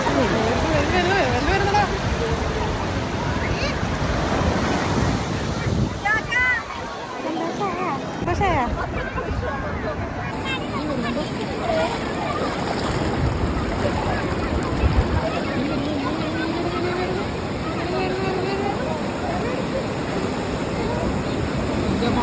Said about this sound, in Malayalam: നല്ല കുറച്ച് ശക്തിയായിട്ട് തിരമാലകൾ വരാൻ തുടങ്ങി